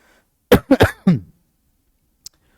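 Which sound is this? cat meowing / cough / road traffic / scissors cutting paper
cough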